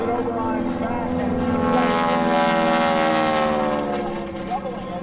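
A T-6 Texan trainer rolls during an aerobatic display at the Tinker airshow. Its propeller engine roars in a loud, rising and falling harmonic drone that peaks midway and fades, under an announcer's commentary.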